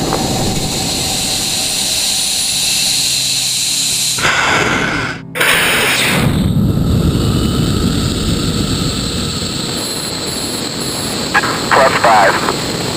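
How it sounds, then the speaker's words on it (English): A missile lifts off with a roaring, hissing blast that builds after a short gap and holds steady, loud and close, with faint radio-style voices at the edges. "Missile away."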